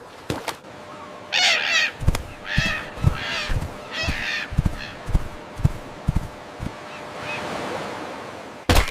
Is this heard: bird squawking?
yes